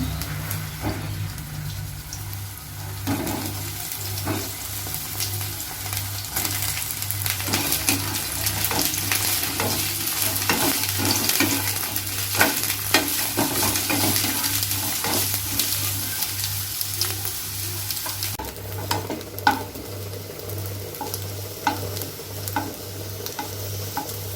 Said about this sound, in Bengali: তেলটা গরম হয়ে গিয়েছে, এবার বেগুন দিয়ে দেবো। বেগুনটা আগে ভেজে নেব।